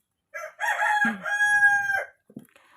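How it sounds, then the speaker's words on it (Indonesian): A rooster crows once in the morning, a loud, close, drawn-out call with a rising start and a long sustained middle, then a few faint clucks afterward. "Harinya masih pagi, waktunya ayam berkokok ya."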